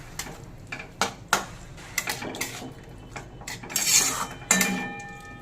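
Spoon mixing potatoes with chilli, turmeric, Kashmiri chilli powder and ginger-green chilli paste in a pot, repeated close metallic clinks and scrapes in an uneven rhythm, with no speech.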